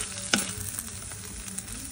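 Shrimp frying in garlic butter in a pan, a close, steady sizzle and crackle with a sharp pop near the start and light stirring scrapes, no talk.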